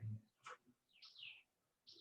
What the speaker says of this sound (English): A lot of different birds are there.